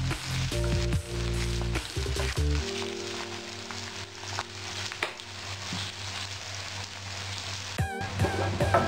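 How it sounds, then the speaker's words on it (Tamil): Chopped onions hit hot oil with whole spices such as cinnamon, cloves and cardamom, giving a loud, continuous sizzle close by, with occasional stirring and clinks of a utensil against the pan. "கட் பண்ணி வச்சுருந்த வெங்காயத்தை ஆட் பண்ணி நல்லா வதக்கி விட்டுக்கலாம்."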